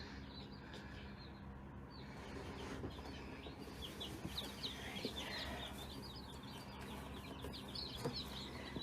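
Many small newborn chicks peep in high, rapid chirps, a dense overlapping chorus close by, with no talking.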